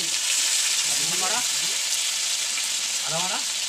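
Bay leaves, ginger and garlic frying in hot oil, a loud, continuous close sizzle throughout, with a voice briefly speaking over it twice.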